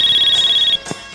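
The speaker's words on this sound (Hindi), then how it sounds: "टेलीफोन आए टेलीफोन टेलीफोन हाँ" A telephone rings with a rapid electronic trill, loud and near, for under a second before it cuts off, followed by a faint soft bump.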